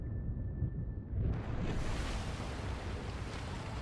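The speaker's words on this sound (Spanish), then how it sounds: "¡Ah, que hay tormenta!" A storm breaks over the sea in the video game Subnautica: Below Zero, a sudden swell of broad roaring wind and rumbling thunder that builds after a quiet start and continues loud and steady to the end.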